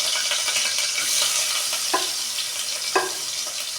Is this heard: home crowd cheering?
no